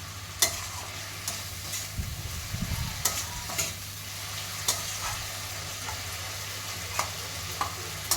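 Tomatoes with about a spoonful of salt fry in a pan for a rohu fish curry, a steady close sizzle with a low hum, broken by a clatter of stirring about two seconds in and sharp spoon taps on the pan.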